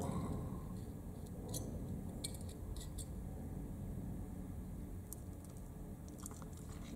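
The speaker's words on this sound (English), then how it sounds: "I'm just rubbing it against the teeth, just gently going back and forth, up and down and up and down and sideways" An Osung LSU15-33 anterior dental sickle scaler rubs back and forth against teeth, making faint, close scraping and clicking ticks over a quiet, hissy background.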